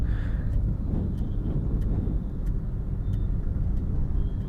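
Maruti Swift VXi automatic car cruising in second gear, a steady low engine and road rumble with wind noise throughout, continuous and moderately loud from inside the cabin.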